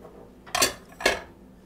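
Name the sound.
stirring zucchini into chocolate loaf batter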